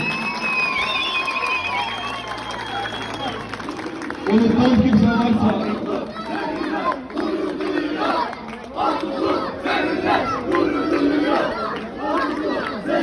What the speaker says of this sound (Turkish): Buradan kocaman bir alkış, kocaman bir sevgi göstersin.